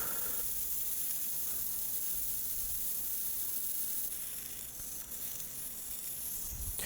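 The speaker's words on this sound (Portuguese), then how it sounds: "agora é uma lavagem abundante em torno de 30 segundos, não somente com água, mas um spray de ar e água" Dental air-water spray rinsing etching acid from a tooth cavity, a continuous close, loud hiss of spraying air and water that holds steady without a break.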